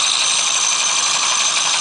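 A small bench motor in an over-unity generator setup whirs at a raised speed, a steady bright high-pitched hum with a faint rattle running unbroken and close throughout.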